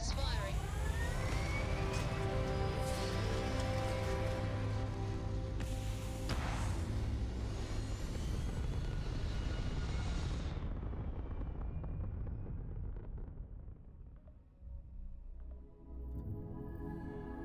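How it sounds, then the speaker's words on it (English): Spaceship thrusters firing at liftoff in the game Starfield make a loud, sustained broadband roar with a droning tonal whine, thinning and fading over the final seconds. "Ready for liftoff. All thrusters firing."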